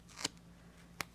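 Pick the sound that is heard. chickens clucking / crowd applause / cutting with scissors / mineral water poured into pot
cutting with scissors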